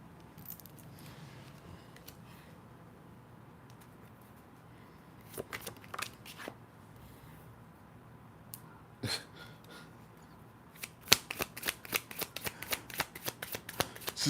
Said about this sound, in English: And the cards are just flying.